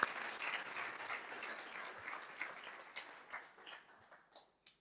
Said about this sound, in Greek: That should give yourself an applaud.